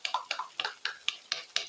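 A salted egg sauce mixture is stirred in a pan, a quick steady rhythm of about seven close scraping strokes with light clinks of the utensil, with no talking.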